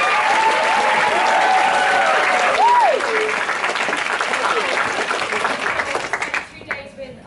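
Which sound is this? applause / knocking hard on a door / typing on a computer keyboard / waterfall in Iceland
applause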